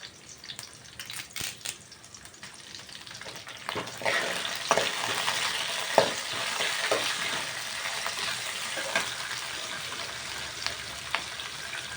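Curry leaves frying in hot oil in a home kitchen, a loud steady sizzle and crackle that swells after a few seconds, with stirring clinks and scrapes across it and no talking.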